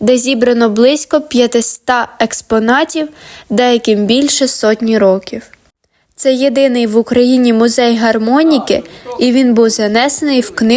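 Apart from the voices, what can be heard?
No everyday noises stand out.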